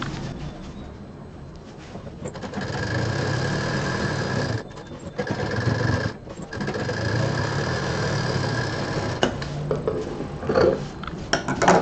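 A sewing machine runs a double line of stitching on a cloth shopping bag. It makes a loud, fast, steady mechanical whir in several bursts, with brief pauses where the fabric is repositioned.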